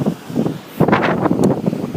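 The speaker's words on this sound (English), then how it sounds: "So I'm by the sea now, and it's quite a heavy sea, quite windy, bracing evening sea." Wind gusts across a heavy, rough evening sea at the seaside in Prestwick, buffeting the microphone with loud, broadband rushing and rumble that swell and ease, with no voices.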